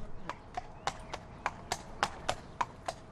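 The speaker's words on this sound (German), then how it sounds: "Hier geht das Pferd zehenweit." A horse walks on a hard surface, its hooves clip-clopping in a steady, evenly spaced rhythm of about a dozen crisp strikes, moderately close, with no talking over them.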